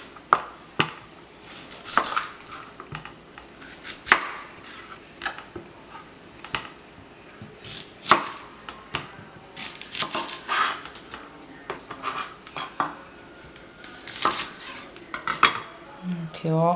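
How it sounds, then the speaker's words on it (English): Small onions being broken in half by hand in a kitchen, with crisp cracking snaps and scattered clatter of dishes and utensils, sharp irregular bursts up close. "So I'll break them in half and half for the rice and then for the meat."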